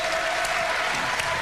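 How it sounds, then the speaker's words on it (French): A studio audience applauds on a French television variety show, a dense, continuous burst of clapping with no voices. "Regardez Yann qui est ici, que vous pouvez applaudir"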